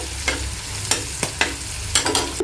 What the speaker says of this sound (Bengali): রসুন আর পেঁয়াজ দিয়ে ডালটা বাগার দিব